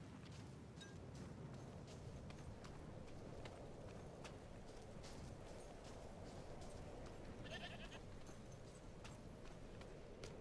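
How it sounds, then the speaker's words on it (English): Goats bleating in Diablo 4, faint repeated animal cries over a busy, noisy game soundscape, with several short calls coming and going. "Goats!"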